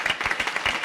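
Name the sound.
audience applause at a conference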